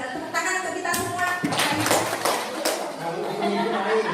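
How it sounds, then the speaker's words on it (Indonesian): A group in a school teacher-training session breaks into a brief round of applause, a short burst of clapping amid chatter and light laughter. "Tepuk tangan untuk kita semua."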